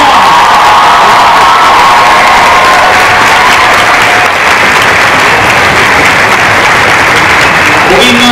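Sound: audience applause for the Cosplay SM 2014 winner

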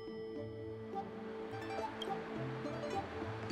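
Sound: sound of ocean waves in Honkai Star Rail video game

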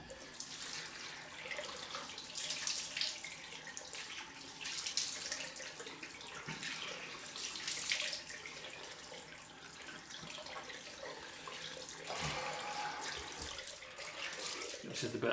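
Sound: tap running water for a cold rinse after shaving

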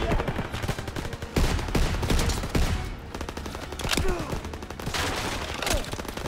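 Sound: gunfire in Call of Duty WW2 video game

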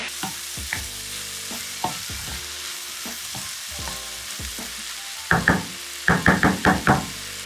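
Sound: peppers and mushrooms cooking in a pan

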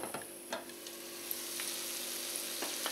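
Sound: zucchini patties frying in a covered pan

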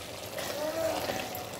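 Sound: pouring cooking oil into pot for biryani

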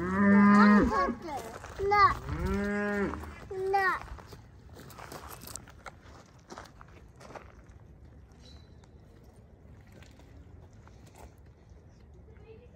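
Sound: cows mooing

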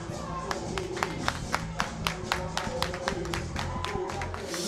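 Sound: audience round of applause at a rap battle show

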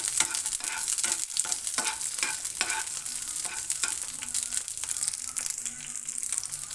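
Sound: green chillies frying in a pan

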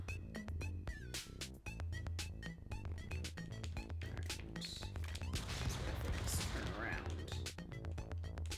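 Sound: shotgun fire in video game Stick Fight: The Game

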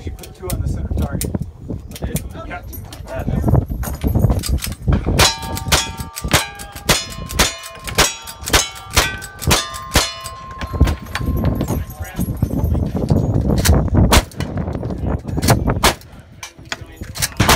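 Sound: cowboy action shooting gunshots hitting steel targets

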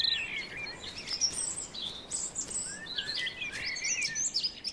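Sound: robin singing in trees

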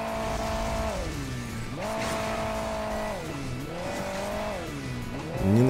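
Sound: vehicle driving in Hill Climb Racing 2 video game

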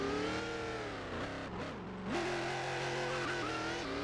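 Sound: car driving in the Roblox video game Driving Empire

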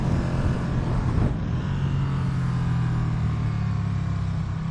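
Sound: Ducati Streetfighter V2 V-twin motorcycle engine revving

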